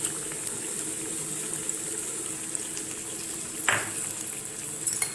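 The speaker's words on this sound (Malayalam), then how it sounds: "മസാല നന്നായി തിളയ്ക്കാൻ തുടങ്ങി." Masala curry for a fish egg curry boiling in a pan, giving a steady bubbling, simmering hiss throughout with a brief louder splash near the end, close and moderately loud.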